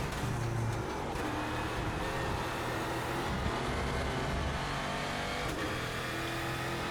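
Race car engines in the sim racing game iRacing, a steady, loud high-pitched engine whine with shifting revs sustained throughout, cars running on a loose, gravel-strewn track, with no voices.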